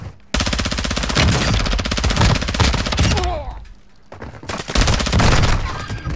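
Rapid automatic gunfire in the Call of Duty Warzone video game, loud, dense bursts of fast repeated shots, a brief lull, then more sustained firing.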